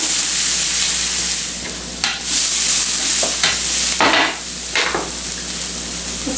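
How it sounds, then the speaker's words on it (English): Onions sauteing in a pan over medium-high heat for chili give a steady broadband sizzle, broken by a few louder bursts as they are stirred, close and continuous with no talk. "we're going to add the onions and saute over medium-high heat"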